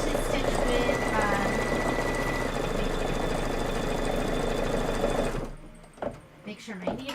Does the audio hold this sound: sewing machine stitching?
yes